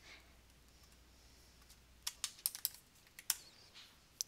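Mouse clicks and light keyboard taps at a computer while using Address Book Manipulator contact software, a quiet hiss followed by a cluster of sharp, close clicks in the final two seconds.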